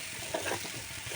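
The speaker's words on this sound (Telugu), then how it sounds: "ఇది కొంచెం పచ్చివాసన పోయే వరకు వేగనివ్వాలి" Chopped spring onions fry in a pan for curry with a soft, steady sizzle close by, and a brief stir scrapes through the crackle partway.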